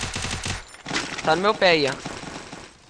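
Rapid gunfire rattles in a video game, with short bursts of shots and a sharp impact while players talk excitedly over it.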